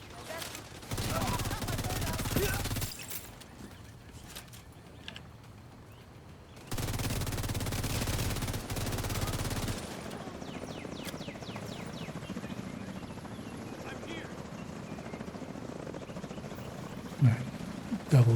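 Rapid bursts of video game gunfire crackle in dense volleys, separated by lulls filled with quieter battle ambience and distant chopper-like droning.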